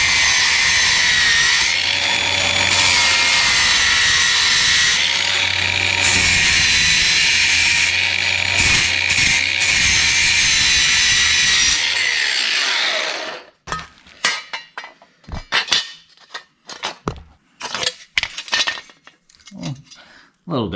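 A power tool cuts a plastic headlight housing from a 1973 AMC grille, trimming it to match a second housing. It is a loud, steady grinding whine for about thirteen seconds, then stops, leaving scattered clicks and handling noises.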